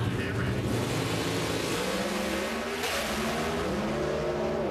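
A pro stock drag racing car launches hard down the strip at a national event in Arizona, its engine screaming loud and close as it revs up through rising tones, the roar staying dense and continuous without a break.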